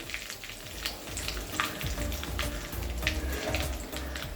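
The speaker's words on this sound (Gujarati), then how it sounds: "8 થી 10 લીલા લીમડાના પાન, રાઈ અને જીરું આપણે સરસ ક્રેકલ થવા દઈશું" Curry leaves, mustard seeds and cumin crackle and sizzle in hot oil in a pan, giving a continuous close fizz scattered with sharp pops, with no voices.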